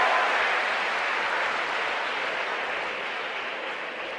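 An Indian cricket crowd at a stadium roars and applauds in a dense, sustained wash of cheering and clapping that fades slowly over a few seconds.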